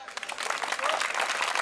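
An audience at a Hindi comedy poetry gathering claps, a steady patter of applause that swells slightly and holds, with a voice faintly mixed in.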